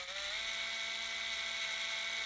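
A small drill bores a hole for wire through a plastic model kit piece, the Silent King. A faint, steady, high whine holds at an even pitch throughout, close by and alone.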